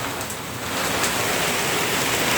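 Heavy, steady rain during a thunderstorm at night, a dense continuous hiss pouring down close by with no talking.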